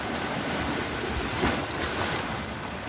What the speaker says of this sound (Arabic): اوه الموج طلعوا